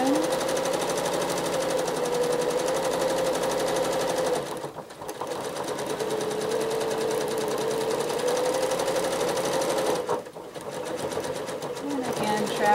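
Sewing machine running steadily for free motion quilting on a quilt, a continuous fast close mechanical whir with two brief pauses, while a person talks over it.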